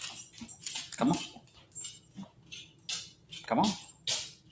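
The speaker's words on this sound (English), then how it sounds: "That's my dog." A dog whimpers and yips in a few short bursts at moderate volume, mixed with someone speaking nearby in a home setting.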